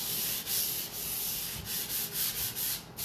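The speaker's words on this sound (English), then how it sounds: "I am using the Dixie Belle sanding sponge" A Dixie Belle sanding sponge rubs over a mahogany nightstand in steady, close back-and-forth strokes, giving a loud, rhythmic abrasive scrape with brief dips between passes.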